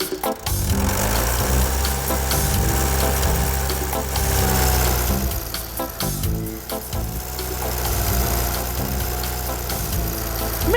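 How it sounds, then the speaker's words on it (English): A farm tractor's engine turns over and settles into a steady, continuous running rumble, loud and close, with no voices. "she accidentally started the engine"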